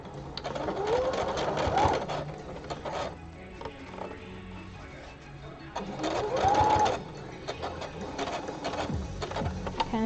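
A sewing machine stitches a seam in folded fabric in two fast whirring bursts near the mic, pausing briefly between them, with quieter handling sounds and faint room noise.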